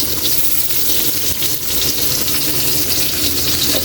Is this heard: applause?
no